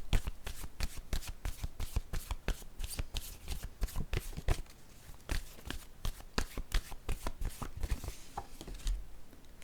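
A deck of playing cards is shuffled by hand in quick repeated bursts of riffling and snapping, close and crisp, with brief pauses between rounds and no voices.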